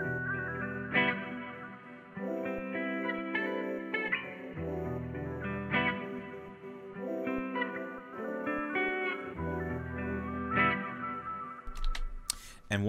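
Sung vocal sample for a late-night R&B beat, processed through Raum reverb, Crystallizer and a Neutron compressor, giving a washy, shimmering, chorused texture of sustained notes with a low rumble and a glitchy burst at the end.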